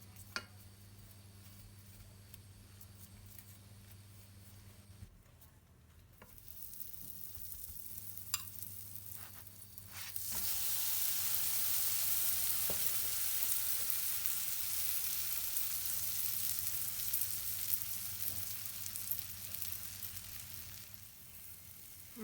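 Potato paratha cooking on a hot pan with ghee gives a steady sizzle with no talk, growing noticeably louder and fuller partway through.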